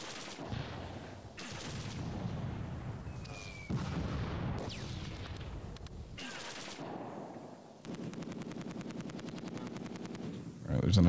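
Battle sounds from the war game Close Combat 2: bursts of gunfire and thudding mortar fire, with a rapid machine-gun rattle late on, heard in the distance under steady background noise.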